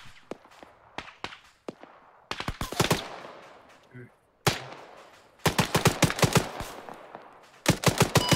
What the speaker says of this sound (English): Okay, I've got a bit of artillery coming in.